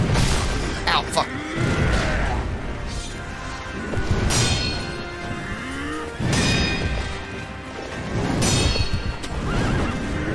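Loud horse neighs ring out repeatedly in Sekiro, several shrill whinnies in a row, over hoofbeats and a rough, busy background.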